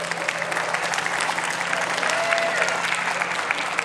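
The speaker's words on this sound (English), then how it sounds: "Give Carol a big round of applause." At a Walk to End Alzheimer's event in Muskegon, a crowd claps steadily and densely for a participant, a continuous wash of many hands with no voices standing out.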